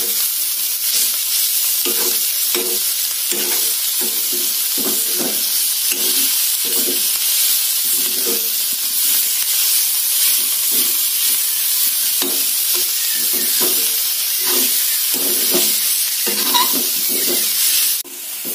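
Taklyachi bhaji, monsoon wild greens, stirred in a pan: a loud continuous frying hiss with rhythmic spoon scrapes repeating every second or so, close and sustained, no one speaking.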